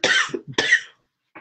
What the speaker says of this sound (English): I just got this cough.